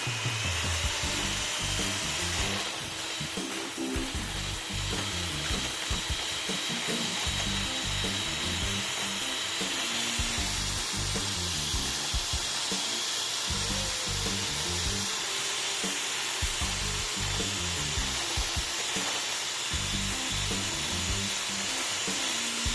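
Electric mixer whipping meringue to stiff peaks, a loud continuous motor whir with a rough, grinding, rhythmically fluctuating low rattle as the beaters churn, running steadily with no voices.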